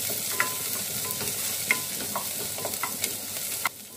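Onion and garlic sizzle and fry in a pan, a steady close crackle with scattered sharp pops and the scrape of stirring, no talking.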